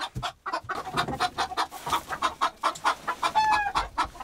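Seven hens clucking repeatedly in short, busy bursts, close by, in winter, with one higher drawn-out call near the end.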